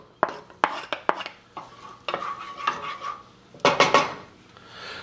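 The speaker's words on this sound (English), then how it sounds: "now we'll start sweating down our shallots" Shallots sweating in extra virgin olive oil in a pan, gentle sizzle beneath a series of sharp utensil clacks and scraping stirs against the pan, close up.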